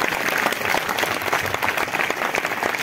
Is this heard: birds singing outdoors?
no